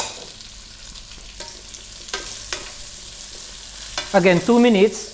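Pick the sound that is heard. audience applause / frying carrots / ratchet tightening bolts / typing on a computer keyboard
frying carrots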